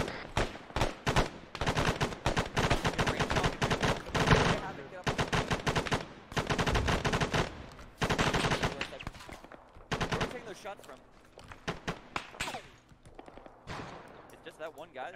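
Enemy technical firing in ARMA 3, loud sustained bursts of machine-gun fire with rapid cracks coming in waves, and a voice talking at times beneath the gunfire.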